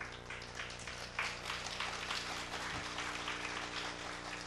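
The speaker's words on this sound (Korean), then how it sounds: "꼭 이 대목에서 다 박수 쳐주시더라고" A church congregation at a mothers' prayer meeting claps together, a soft, fairly faint patter of applause that swells slightly and then holds steady, with no talk over it.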